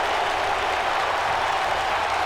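Arena crowd noise in the WWE 2K wrestling video game during a Lita versus Baszler match, a dense, steady roar of cheering and clapping at even volume with no clear voices on top.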